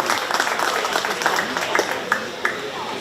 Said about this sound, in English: So if we could please give them a round of applause for